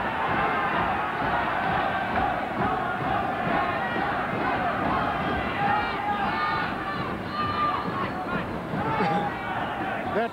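A Belfast boxing crowd roaring throughout a bout between Frank Young and Fred Etuati, a dense continuous wall of shouting and cheering, with excited voices rising out of the din.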